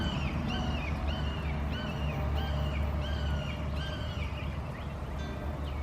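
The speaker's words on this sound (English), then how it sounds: "Hear the hawk?" A series of high, descending hawk calls repeats about once a second, fairly clear over a steady low rumble of wind or distant engine noise.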